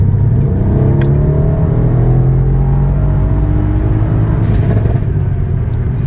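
A Mercedes-AMG C63 S, the 2023 model, accelerates hard in a straight line, its engine note climbing steadily in a loud, continuous roar with road rumble beneath and no talking.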